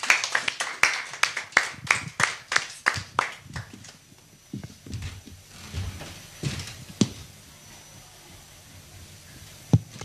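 A church congregation claps in praise, with a burst of fast, close, rhythmic hand claps that loosens into scattered claps and fades to sparse isolated ones.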